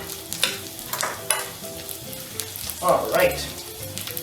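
Garlic sizzles and crackles in a hot frying pan with intermittent stirring scrapes, loud and close, while a voice speaks briefly.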